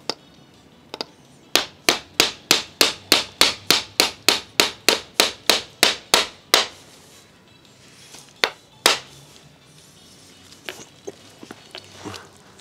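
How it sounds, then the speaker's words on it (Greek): A nail is driven with a hammer in a quick, even run of about fifteen sharp, close strikes, followed by a pause and a few scattered, lighter taps. "Με ένα καρφί."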